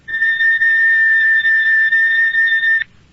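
A high, piercing electric oscillator tone at about 4,000 cycles per second sounds alone like a loud steady whistle. It holds for nearly three seconds, then stops abruptly.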